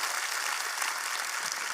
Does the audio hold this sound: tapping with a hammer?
no